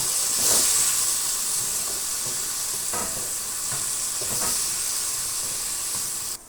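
Bitter gourd and a small potato frying in a pan give off a steady loud sizzle and hiss, with a few stirring scrapes rising now and then and no talk.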